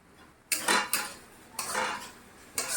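A metal spoon scrapes and clinks inside a kadai while spices are being stirred, in four short, separate bursts with quiet pauses between them.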